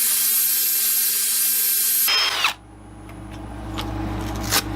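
A wood lathe whirs steadily while sanding a resin and wood piece, then the pitch drops and it runs on as a lower, rougher drone with a brief surge near the end.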